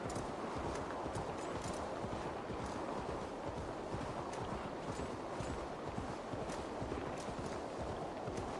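A horse gallops at steady speed in Assassin's Creed Valhalla, its rapid hoofbeats clip-clopping continuously at close range over a light windy hiss.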